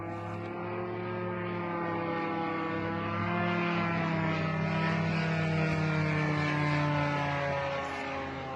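A military drone flying directly overhead in a Ukraine conflict zone gives a steady, droning propeller buzz with layered harmonic hum, loud and continuous, swelling slightly midway before easing, with no talking.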